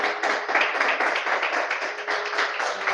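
Church congregation clapping steadily together during an evangelical worship service, a dense and continuous patter of many hands at moderate loudness with no gaps.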